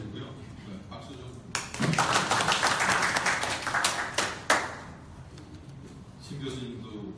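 Audience at an internet governance forum workshop clapping, a burst of dense applause rising and holding for about three seconds before fading back to murmuring voices.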